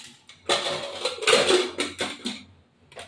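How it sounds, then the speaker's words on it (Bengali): A metal lid clatters onto a pot of thin goat meat curry, with several close, sharp clinks and scrapes in quick succession and then a short pause. "এবার ঢাকনাটা আটকে দেবো।"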